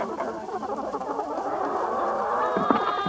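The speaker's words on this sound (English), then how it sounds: "Black chickens only, please." A flock of chickens on a farm clucks and chatters continuously at close range, a busy overlapping stream of calls.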